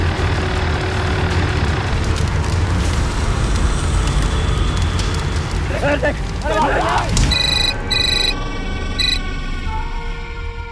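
An electronic telephone ring trills near the end, over a noisy rumble of traffic and engines in the background.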